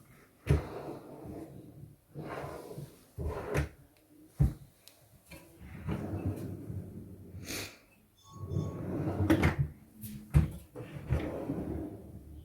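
Drawers of a lockable storage unit slide open and shut several times, with soft thuds and scraping bumps spread across the recording, close and fairly quiet, amid light rustling and breathing.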